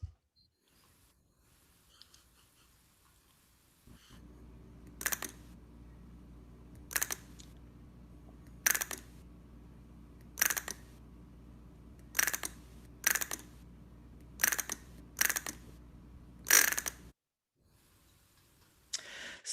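A DVD motor spins a wooden plectrum against the wooden dowels of a frog-style scraper instrument, giving a steady low mechanical hum broken by about a dozen sharp rasping bursts at uneven intervals, alone and close.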